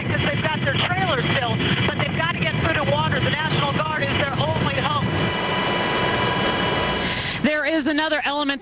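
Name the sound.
National Guard helicopters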